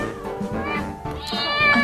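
Cartoon cat meowing in a children's story, a few short mews close by over narration and light background music.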